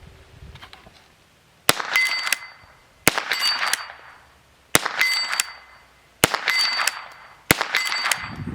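Five sharp 9mm handgun shots fired while plinking with a CVLIFE 1x30mm red dot sight with laser, evenly spaced about a second and a half apart, loud and close, each followed by a short ringing decay.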